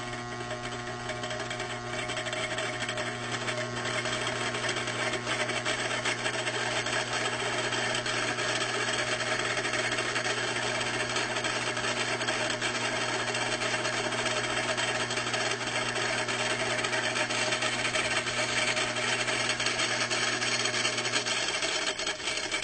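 Experimental electric motor fitted with a second rotor and a wider air gap, running under applied voltage with a steady, close mechanical hum and faint rubbing whine that holds constant throughout.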